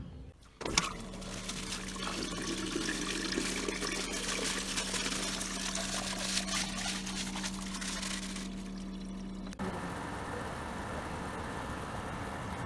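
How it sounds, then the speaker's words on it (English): Water runs steadily into an RV black tank through a hose, a continuous rushing flow with a low steady hum beneath it, close and fairly loud for about nine seconds before cutting off into quieter background. "We're filling the tank right now."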